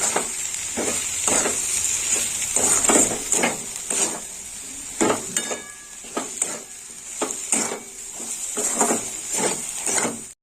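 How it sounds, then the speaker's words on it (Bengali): Ground coriander and cumin powder sautéed in hot oil in a pan for a Kachkel fish curry, a steady loud sizzle broken by repeated scraping stirs, with no talking. "আর দিয়ে দেবো ধনে জিরের গুঁড়ো। ভালো করে কষে নেবো।"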